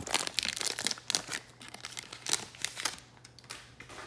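A football card hanger pack wrapper is torn open and handled, giving close, bursty plastic crinkling and crackling in quick irregular clusters that fade toward the end, with no voices.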